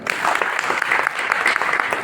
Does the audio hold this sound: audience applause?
yes